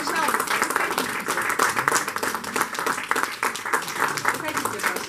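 An audience at the anniversary of the Kramatorsk Art Museum applauds the museum staff with steady, moderately loud clapping throughout, while voices talk over it.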